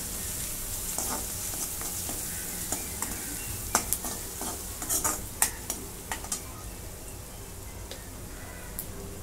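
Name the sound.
sautéing crushed chili and turmeric in a pan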